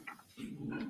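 A dog growls and whimpers briefly, close by and alone, in a courtroom.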